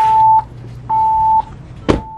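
A Kicker Key 200 4 electronic unit gives two steady, loud, half-second beeps with a short gap between them, then a click and the start of a third beep, heard up close.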